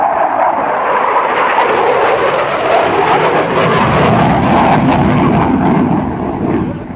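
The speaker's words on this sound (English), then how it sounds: "In the tailpipes, you can actually see the afterburners working." An F/A-18F Super Hornet makes a demonstration pass at the 2010 Joint Services Open House air show, its jet engines producing a loud, steady, broad roar that fills the whole clip and eases slightly toward the end.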